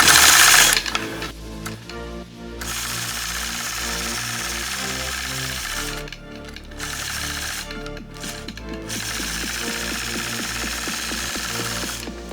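A sewing machine quilts a block along a Mini 4-N-1 ruler, making a loud, steady mechanical whirr of rapid stitching that stops briefly a few times before running on.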